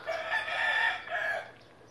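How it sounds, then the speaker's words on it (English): A single rooster crows once, a short, clear cock-a-doodle-doo at moderate distance, fairly faint and with no voices over it. "The rooster is crowing."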